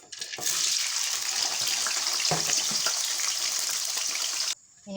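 Steady, dense sizzling of potatoes frying in hot oil, loud and continuous, cutting off abruptly near the end.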